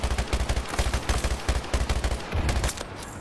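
AC-9 submachine gun firing in Battlefield 2042, rapid full-auto bursts in a tight, steady rhythm. The shots sound loud and close with hard punchy low end, and they trail off near the end. No one speaks.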